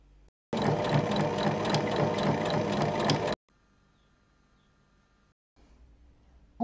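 A sewing machine stitches fabric scraps onto quilt batting in one loud, steady run of rapid mechanical whirring lasting about three seconds, followed by quiet handling sounds.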